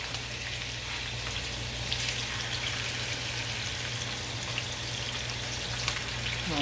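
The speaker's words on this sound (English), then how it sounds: "the only thing I'm gonna do is put our diced potatoes directly in here" Diced potatoes fry in hot canola oil with a steady, dense sizzle and crackle that holds evenly throughout, close and fairly loud, over a faint low hum.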